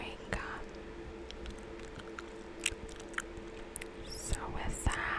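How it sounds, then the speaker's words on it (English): Gum chewed close to the microphone, with soft wet smacks, squishes and clicks repeating every half second or so under a continuous quiet whispering voice. "while chewing gum."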